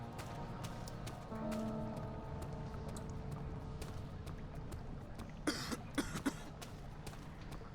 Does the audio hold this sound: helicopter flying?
no